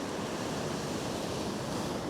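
Turbulent surf churns over a rocky reef at a shore fishing spot, making a steady, loud broadband roar with wind rumbling on the microphone.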